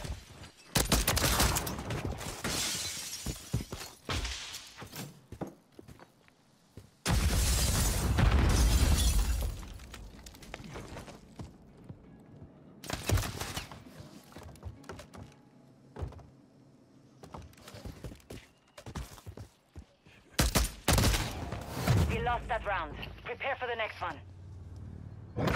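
Video game gunfire comes in sharp bursts and single shots separated by quiet gaps, with a player talking between the volleys.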